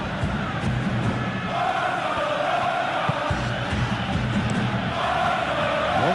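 A dense football stadium crowd from a video game, a continuous roaring murmur with swelling chants, steady and fairly loud throughout.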